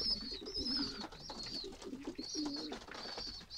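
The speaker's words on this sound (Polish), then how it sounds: "możecie zobaczyć, jak gołębie stare karmią młode" Adult pigeons feeding their young give soft, close cooing and rustling, with short repeated calls over a few seconds and no talking.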